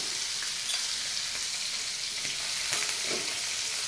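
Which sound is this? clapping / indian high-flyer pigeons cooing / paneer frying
paneer frying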